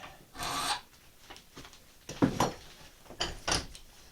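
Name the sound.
filing to round the edge of a crooked knife blade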